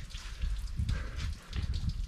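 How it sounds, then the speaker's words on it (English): A small stream of water trickles and drips under a rock overhang in a wilderness area, a soft continuous splashing patter with low rumbles, heard fairly close and alone. "Interesting how there's just a stream of water in the back."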